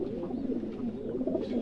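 High Flyer pigeons being bathed, giving a soft continuous throaty cooing close by, mixed with faint splashing and rustling, with no talking.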